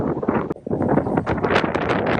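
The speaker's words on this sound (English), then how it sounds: "It's windy and it's dry." Steady dry wind on a cruise ship walking track buffets the microphone in rough, roaring gusts, with a brief lull near the start before the blustery rush picks up again.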